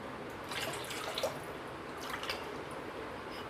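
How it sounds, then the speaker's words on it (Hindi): Water poured into whisked curd for kadhi makes a soft, continuous liquid splashing and trickling, close but fairly quiet, with a few slightly stronger surges. "अब इसमें हम पानी डालेंगे।"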